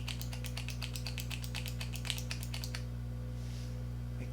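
Repeated light plastic clicks from twisting up a click-up lip product, a pink Morphe shade called Rose, fast and close over a steady low hum, then stopping partway through.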